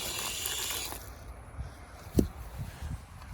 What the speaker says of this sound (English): Hopefully I don't have to get it soaking wet to break it, but just spray it.